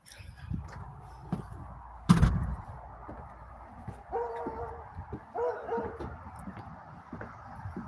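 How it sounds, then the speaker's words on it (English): Dogs scuffle nearby outdoors, with a sharp yelp, brief barks and whimpering whines breaking through a low background, the loudest burst early on followed by softer whining cries. "Angie, your dog just came over here and attacked my dog again, Ronan."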